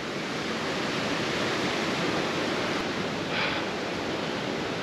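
Calypso Cascades, a waterfall in Wild Basin, Rocky Mountain National Park, roars as a dense, unbroken rush of falling water, loud and close, with no voices.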